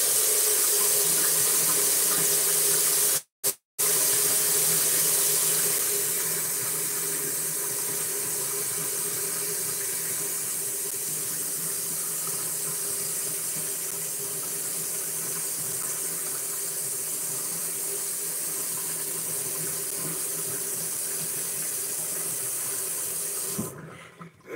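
Water runs from a tap into a sink as a steady, broad hiss for about twenty-five seconds, with a brief break near the start and a cutoff at the end.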